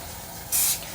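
A brief, sharp hiss of GluBoost sprayed onto acrylic turning on a lathe, one short burst close by against a quiet background.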